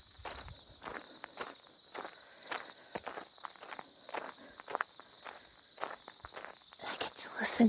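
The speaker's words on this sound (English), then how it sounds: "I get to listen to all the crickets." A steady, faint chorus of crickets hums through a foggy morning nature walk, with soft footsteps crunching along the path throughout.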